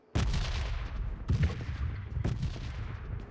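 Three loud, sharp gunshots ring out at roughly one-second intervals in PUBG Mobile, each with a booming low-end thump and short decay, fired unintentionally with no one talking.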